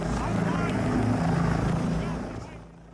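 A rescue helicopter hovering over a dense forest, its rotor thumping loud and close in a steady throbbing beat, then fading away toward the end.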